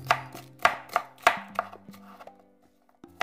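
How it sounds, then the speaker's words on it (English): A knife chops onions on a cutting board with a quick run of sharp, close thuds that slow and fade toward the end, with no talk. "Let's just take the act of chopping onions."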